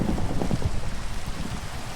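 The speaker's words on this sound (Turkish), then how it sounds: "Yağmur oldu arkadaşlar." Steady rain from a Minecraft thunderstorm hisses loudly and continuously, with low rumbling thunder mixed in.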